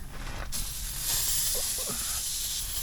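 Water spray hisses against a dirty Ford F250 truck engine during cleaning, a steady close rushing hiss that kicks in abruptly and continues loud to the end.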